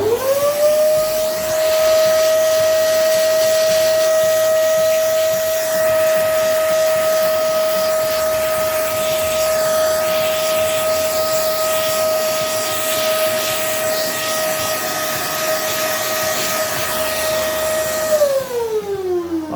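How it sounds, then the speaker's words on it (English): A vacuum cleaner runs close by while cleaning an old tube radio, a steady loud whine with hiss that holds throughout, then winds down at the end. "a vacuum cleaner close to you, it will be some noise"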